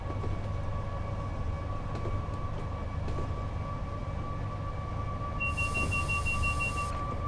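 Trains in Train Sim World 6 on a London to Crewe railtour, including a BR Class 87: a steady low rumble of rolling stock with a sustained tonal whine, and a brighter hissing burst near the end.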